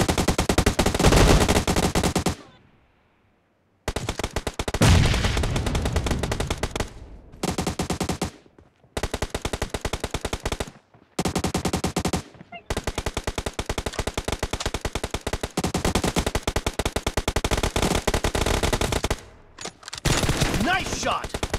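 Rapid automatic gunfire in a shooting video game rattles out in long, loud bursts separated by short silent gaps, close and harsh throughout.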